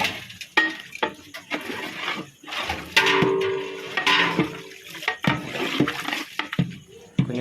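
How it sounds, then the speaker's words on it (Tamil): Water gushes into a large catering pot of mutton gravy being cooked for a wedding crowd, a loud rushing pour broken by clanks and scrapes of metal vessels. "இன்னும் தண்ணி ஊற்றிக்கிடலாம்."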